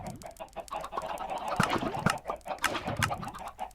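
Chickens cluck and squawk in a video-game farm with an egg dispenser, a busy overlapping flock of repeated clucks at close range, fairly loud, with no talk.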